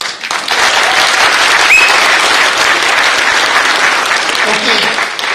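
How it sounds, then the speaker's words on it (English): Loud, dense round of applause from an awards-event audience, sustained steadily for about five seconds with a brief whistle-like cheer in the middle, clapping filling the room evenly before tapering slightly at the end. "So I want to hear one round of applause with enthusiasm."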